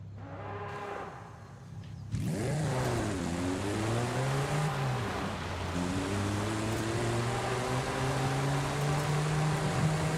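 A V10-powered car in the Forza Horizon 5 racing game, fitted with a six-speed manual, idles quietly and then bursts into loud acceleration, its engine note climbing and falling through gear changes.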